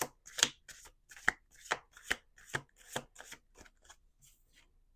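Tarot cards being shuffled in a final riffle, a string of about ten crisp, close slapping and flicking bursts in a steady rhythm that thins out toward the end.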